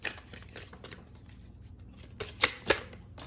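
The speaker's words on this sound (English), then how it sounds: "let me cut the deck in half because my hands are so extremely small" Half a deck of tarot cards being shuffled by hand, a run of soft riffling flutters close up, ending in two sharper card snaps.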